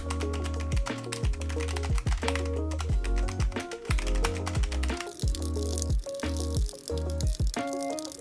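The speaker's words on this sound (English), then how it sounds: "Okay, let's go ahead and do some typing tests." Rapid typing on a Logitech G915 TKL low-profile mechanical keyboard, crisp clicky keystrokes in quick irregular bursts, close and loud with no voices.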